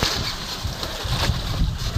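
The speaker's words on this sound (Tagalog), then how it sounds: "Ay, lumaki na yung alon." Sea waves growing bigger around a fishing boat, heard as a constant churning wash of water and wind buffeting the microphone, with low thuds of hull and swell.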